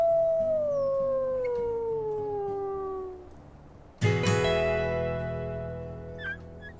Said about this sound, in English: The mud pot pack still howled in the distance, so Eris howled back